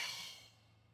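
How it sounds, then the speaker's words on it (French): One soft, slow exhale during a beginner yoga exercise, an airy breath that starts moderately and fades away over about a second, heard alone and close. "Et expire"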